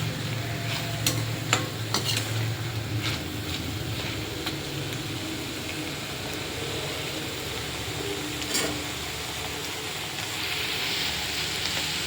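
Tomato thokku being stirred into cooked rice in a pan for a lunch box, soft scraping and mixing strokes with a few sharper clicks of the spoon against the pan, continuous and close.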